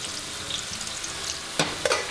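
Blanched potato fries bubble and sizzle in hot oil, a steady frying hiss with a couple of louder crackling bursts near the end as the basket is shifted; no voices.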